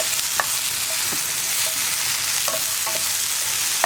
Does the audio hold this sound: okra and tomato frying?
yes